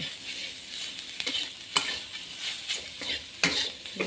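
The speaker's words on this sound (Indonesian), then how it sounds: "Aduk-aduk sampai benar-benar wangi" Oncom and leunca frying in a pan, a close bed of sizzle broken by several sharp stirring scrapes and clicks, with no voices.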